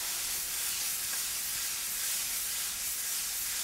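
Garlic sautéing in olive oil in a pan, a steady bright hiss and sizzle heard up close, even and unbroken throughout.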